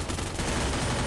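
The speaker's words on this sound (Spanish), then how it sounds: "los disparos de Free Fire no me dejan oírte" Rapid gunshots from the Free Fire video game rattle in a dense, loud burst of automatic fire, close and uninterrupted for about a second.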